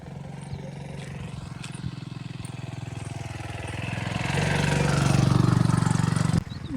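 A motorcycle-like engine drones steadily along a rural road beside a sorghum field, growing louder as the vehicle nears over several seconds before dropping off abruptly near the end.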